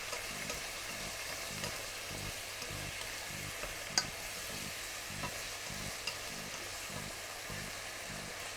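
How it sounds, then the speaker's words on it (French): Meat and onions fry on high heat, giving a quiet, continuous sizzle broken by soft rhythmic stirring or scraping and an occasional small clink, close and without speech. "vous faites revenir ça tranquillement, la viande et les oignons."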